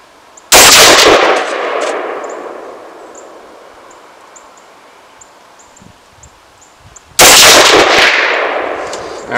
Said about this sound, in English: I'm going to try hitting the metal target if I can.